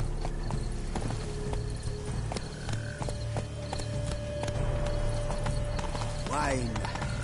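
A horse ridden in The Witcher 3 clip-clops at a steady gait, the hoofbeats running under ambient game sound, with a brief neigh near the end.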